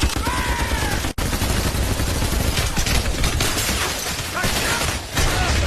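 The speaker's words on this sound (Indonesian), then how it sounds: "membuka senjata berat yang mereka bawa, yaitu M2 Browning alias senapan mesin dengan peluru berkaliber besar" Sustained heavy machine gun fire from an M2 Browning in a film action scene, a dense loud barrage with one brief break near the start and faint voices underneath.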